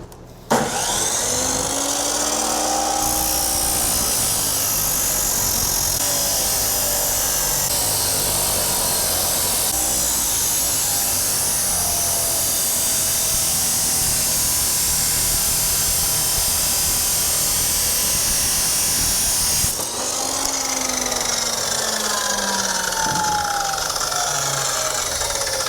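Power tool cutting metal for a Harbor Freight ATV lift, a loud, continuous high-pitched grinding whine whose pitch sweeps up and down, close by and briefly easing near the end.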